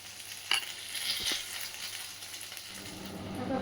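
Onions frying in a pan, cooked fairly crisp in a home kitchen, give a steady soft sizzle throughout with a couple of brief clinks or stirring taps near the start.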